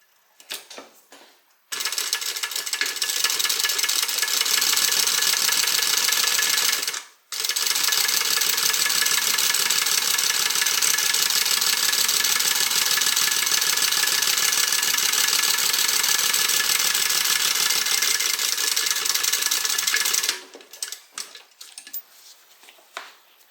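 A sewing machine runs steadily while stitching a tote bag, a loud, continuous mechanical whir that pauses briefly partway through, then resumes before stopping; no talking over it.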